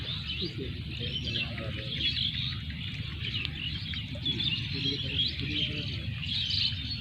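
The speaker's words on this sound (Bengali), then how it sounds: "শুনতে পাচ্ছেন পাখির কিচির মিচির শব্দ" Evening birdsong rises over a wetland beel: many small birds chirp and twitter continuously at a moderate distance above a steady low outdoor background.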